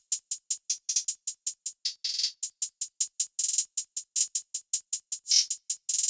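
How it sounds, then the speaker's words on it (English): Crisp trap hi-hats from an FL Studio beat tick in a steady pattern of short bright hits, broken by quick rolls and a couple of longer open hits, alone with nothing else underneath. "This hi-hat."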